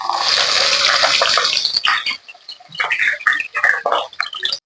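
Mustard seeds, fenugreek, shallots, curry leaves, red chillies and garlic fry in hot oil for a fish curry. A steady close sizzle runs first, then it breaks into irregular spitting pops and crackles.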